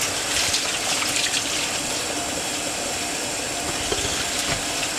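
Running water gushes steadily and loudly over canister filter media from a 55-gallon fish tank as it is rinsed, a continuous broadband splashing with no voices.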